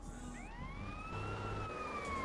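Police siren from GTA San Andreas, a wailing tone that sweeps up and then holds steady over a continuous low engine-like rumble, staying loud and close with no talking.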